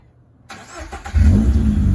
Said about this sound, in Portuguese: Vamos ver o barulho que vai fazer agora.